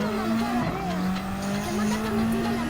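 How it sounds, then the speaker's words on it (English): A race car in Gran Turismo 7 brakes hard into a corner, its engine holding a steady drone while tires squeal and skid, loud and continuous, with a voice commentating over it. "Gonna have to slam the brakes inside onto turn 10."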